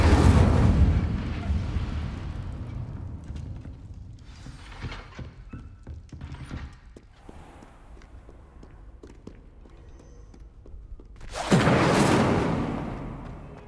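In the Hogwarts Legacy video game, the Incendio fire spell erupts as a loud fiery whoosh at the start and again near the end, with quieter crackling and clatter in between and no talk.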